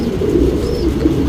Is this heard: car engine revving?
no